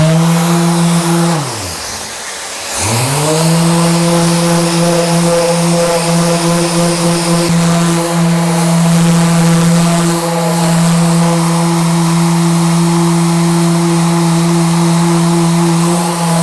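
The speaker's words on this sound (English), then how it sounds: "I'm using a Mirka Deros 650, great little sander, random orbital sander, with the Abranet 80 grit sanding disc and a Mirka 915 extractor." A Mirka Deros 650 random orbital sander with an 80 grit Abranet disc, connected to a Mirka 915 extractor, works a reclaimed scaffold board table top. It gives a loud, close, steady whining hum after a brief spin-down and restart near the start.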